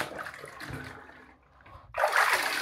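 Water running and splashing while a Dirt Devil Endura Lite vacuum's dust cup is rinsed, a steady gush that dips briefly, then surges back loud and close.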